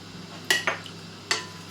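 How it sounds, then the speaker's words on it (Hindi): A utensil scrapes and clinks against a pot while jaggery is stirred with water: three quick metallic knocks, the first two close together and the third a moment later, over quiet room hum. "गुड़ को पानी के साथ चला लें"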